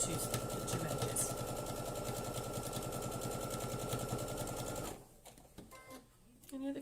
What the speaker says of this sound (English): So I'm just literally top stitching down both sides and along the two edges.